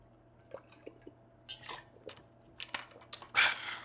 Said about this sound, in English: Take a sip of water with me, bro.